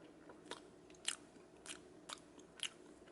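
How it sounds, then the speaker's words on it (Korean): Small, quiet bites into a GS25 convenience-store banana omelette dessert with soft bread, heard as four or five short, crisp crunching bursts spaced apart against a low, still background. "한번 한입 먹어 볼게요."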